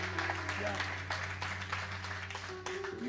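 A church congregation claps their hands in praise, the scattered clapping fairly soft beneath a low sustained musical drone. A voice speaks over it.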